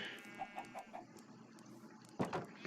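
Chickens in the Minecraft 1.20 survival game cluck softly in a quick series of short calls, then fall quiet amid faint background noise before a louder clucking burst near the end.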